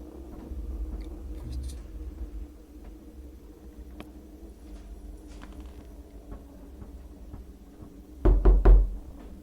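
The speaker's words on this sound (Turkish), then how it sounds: "Kapı çalıyor oğlum." Quiet rumbling background, then a burst of loud, rapid knocks near the end, close and heavy.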